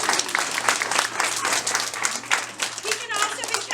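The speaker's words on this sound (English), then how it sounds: "You can clap for that." Dense, continuous applause from an audience at an eighth-grade graduation, many hands clapping at once, loud and close, with faint voices and cheers mixed in.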